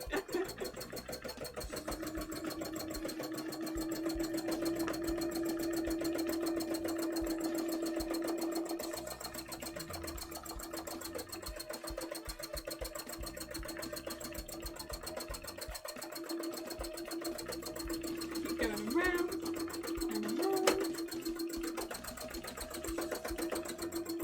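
A sewing machine runs steadily through free-motion embroidery for a cosplay costume, a continuous mid-pitched motor hum with rapid needle clatter that shifts speed near the end, with no talking.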